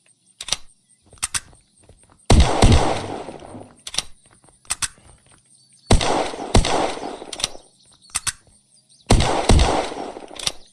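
Shotguns blast in the survival game Unturned, heavy booming shots fired in quick bursts of two or three, with sharp reports and short decaying tails, loud and close with no talking.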